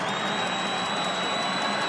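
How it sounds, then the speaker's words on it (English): Crowd noise from a large stadium audience at a Texas high school state championship football game at AT&T Stadium, a steady, dense roar of cheering and whooping held for the whole two seconds with no breaks. "Good crowd on hand here at AT&T Stadium, and the Highland Park side bringing the noise"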